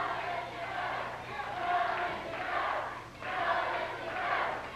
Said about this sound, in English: The crowd chanting, "Go Olympia, go!"